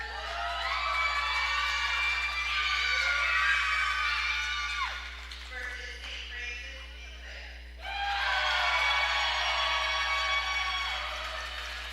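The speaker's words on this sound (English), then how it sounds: "We will have a rowdy crowd tonight." A rowdy crowd at a CYO girls' volleyball city championship cheers and screams with high youthful voices, loud and sustained, dipping briefly in the middle before surging back, over a steady electrical hum.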